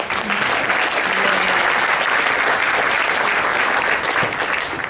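Loud, dense audience applause at a symposium honoring its co-chairs, a sustained even roar of many clapping hands from start to finish with no talk over it.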